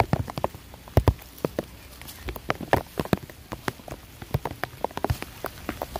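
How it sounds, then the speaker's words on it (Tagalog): Rain during a typhoon: scattered drops patter and tap irregularly on a nearby surface, crisp and close, with no voices. "Kahit na ulan."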